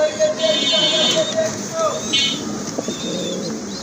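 Big blue Magpie Otter pigeons and others at a pigeon market, cooing and soft calls close by, mixed with talk and market noise.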